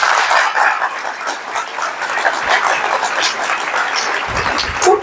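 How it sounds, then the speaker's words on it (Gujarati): Audience clapping fills a college auditorium during a candid talk with commerce students, a dense, steady round of applause lasting throughout with no pause. "એકવાર જોરદાર તાળી એમને"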